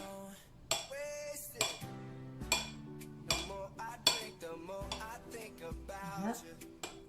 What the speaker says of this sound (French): je vais couper un demi-avocat en lamelles